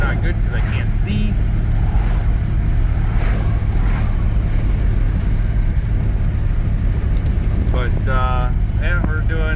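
A 1977 Pontiac Bonneville cruising at 50 mph, giving a loud, steady low engine and road drone with wind noise throughout and a brief voice near the end.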